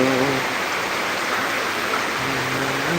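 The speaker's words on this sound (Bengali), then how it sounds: "বৃষ্টিটা প্রচুর হচ্ছে এখন হঠাৎ করে বৃষ্টি শুরু হয়ে গেছে ঢাকার ভিতরে" Heavy rain pours at night in Dhaka, a dense steady roar of water, loud and unbroken for the whole stretch, with a faint tonal hum at the start and end.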